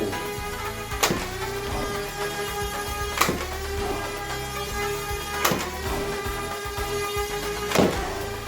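Motor of a Dart Zone Thunderbolt semi-auto foam dart blaster whirs in a steady electric hum, broken by four sharp firing clacks spaced about two seconds apart, close and fairly loud with no talk.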